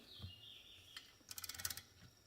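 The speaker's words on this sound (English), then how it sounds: "And now I will take a socket wrench, like you see here, and just start tightening it." Socket wrench ratcheting in a quick burst of small clicks while tightening during a swing arm bushing job at a workbench, preceded by faint scraping and squeaks.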